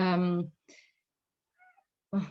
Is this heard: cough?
no